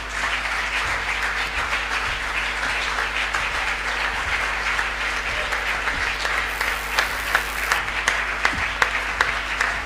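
A church congregation applauds steadily throughout, a dense, even wash of many hands clapping with a few sharper claps near the end.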